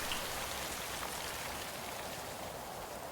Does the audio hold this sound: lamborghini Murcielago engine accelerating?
no